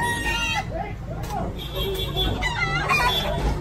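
Chickens clucking and a rooster crowing among backyard cages of a neighborhood coop area, several calls overlapping near and mid-distance over steady low background noise.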